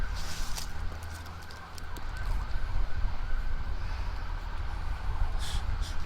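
An emergency rescue vehicle siren wails steadily at a distance, a sustained tone under constant low rumble of traffic or machinery, with a few brief clicks and knocks nearby.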